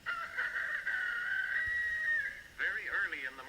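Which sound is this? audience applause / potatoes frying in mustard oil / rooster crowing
rooster crowing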